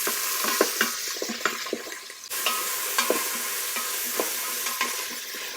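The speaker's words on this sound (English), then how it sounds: "we can make it sizzle even more by adding in our onion and the celery" Garlic, onion, celery and carrots sizzling in an Instant Pot for vegan minestrone, a steady hiss broken by repeated spoon scrapes and stirs, close and without talk.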